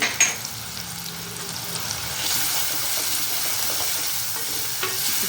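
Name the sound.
frying ginger-garlic paste with chilli and coriander powder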